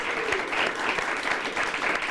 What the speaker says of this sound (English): So that you deserve a round of applause.